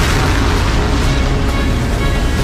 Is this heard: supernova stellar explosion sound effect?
yes